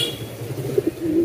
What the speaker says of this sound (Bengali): শুনতে পাচ্ছেন এখানেও কিন্তু ডাকাডাকি করতেছে সে।